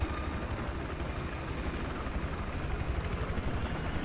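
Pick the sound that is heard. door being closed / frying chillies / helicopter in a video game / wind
helicopter in a video game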